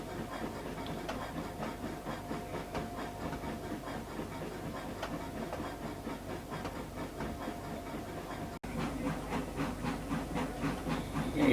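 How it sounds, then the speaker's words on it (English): A steam-hauled passenger train arrives at a station in the Trainz game: continuous chuffing and hissing with rhythmic rail clatter. It is steady and moderately faint throughout, with no talk. "Number 61, first class passenger train from Rossland to Midway daily, is arriving at West Robson"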